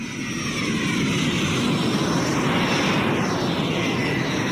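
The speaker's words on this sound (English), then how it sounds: "That's the jet, specifically the jet." A jet airplane roars steadily overhead, a loud continuous engine rumble with a high whine that shifts slowly in pitch.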